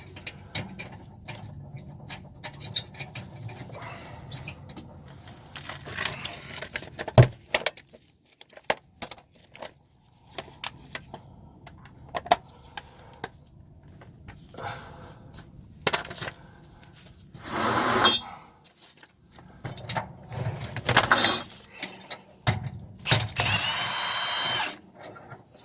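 A nut being threaded back onto the chain holding a motorhome's spare tire, heard as scattered metallic clinks, rattles and short ratcheting bursts with quiet gaps between them, close up and with no voice.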